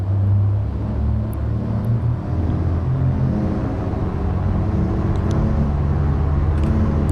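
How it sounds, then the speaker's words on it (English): General aviation aircraft engines throttling up for takeoff in Flight Simulator, a steady low droning rumble with faint tonal harmonics building slowly, heard alone. "Slowly advance those throttles."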